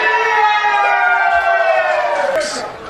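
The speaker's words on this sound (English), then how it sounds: "There's a siren." A long, steady siren sounds loudly with harmonic tones over crowd noise at an Australian rules football match at Gardens Oval, then cuts off near the end.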